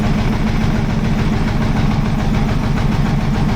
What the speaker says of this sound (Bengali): দারুণ একটি বোট রাইড হতে চলেছে ভিউয়ার্স